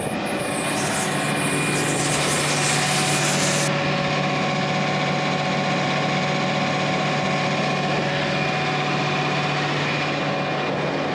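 A combine harvester's engine runs steadily after being refuelled, a constant droning idle with a high whine that cuts out partway, heard close and alone.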